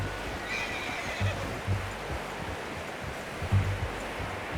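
Horse whinnying in Red Dead Redemption 2, a short neigh over soft ambient outdoor noise, with a few low hoof-like thumps.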